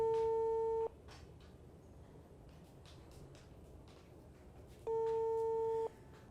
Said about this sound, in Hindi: सुबह से फ़ोन नहीं उठा रहा है वो, बेल जा रही है